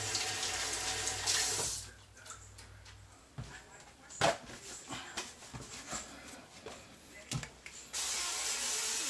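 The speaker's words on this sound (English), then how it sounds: "now I have to wash my hands to spray the bottom." Water runs from a tap for hand washing while making meatballs, stops for several seconds amid faint clinks and rustling, then flows again.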